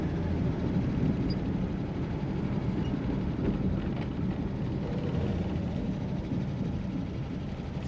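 A 1949 Chevrolet Styleline Deluxe Sport Coupe on the road, a steady low engine drone and road rumble from inside the car with wind noise, staying even throughout as it shifts down into second gear.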